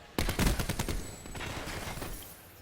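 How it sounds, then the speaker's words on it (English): Rapid automatic gunfire in a Call of Duty match crackles as a dense burst of shots that starts abruptly and then trails off into a rattling, fading spray. "Priestahh putting some shots in"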